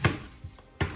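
A knife chopping an onion for blender tomato soup lands in sharp, close thuds on a cutting board, a few irregular strokes in quick succession with no talking.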